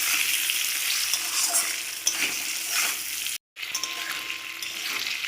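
Fried vegetables tipped back into a pan for bitter gourd jhal, loud sizzling with stirring scrapes, cut by a brief silent gap before the frying resumes.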